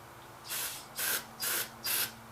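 Carb cleaner sprayed from an aerosol can while getting a 526 engine to run: four short hissing bursts, each about a third of a second long, evenly spaced and close, against a quiet background.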